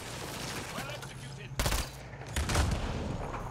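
Gunfire bursts in the sci-fi shooter game Mass Effect Andromeda, including a concussion shot: two loud, sharp blasts punch out over a noisy battle backdrop, the second followed by a rumbling tail.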